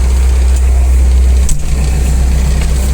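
A Mitsubishi MT367 tractor engine idles with a steady, low rumble throughout, with a brief dip and small clatter midway before settling back into the same smooth drone.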